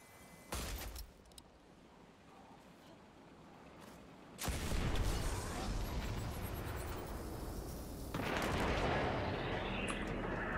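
A cannon fires in Destiny 2's Grasp of Avarice dungeon, with booming blasts followed by long, heavy rumbling roars and crackling debris, loud and close after a quieter opening.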